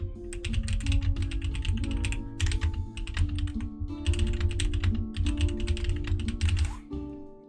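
Fingers type on a computer keyboard in quick bursts of close key clicks, pausing briefly between runs, over a low steady hum.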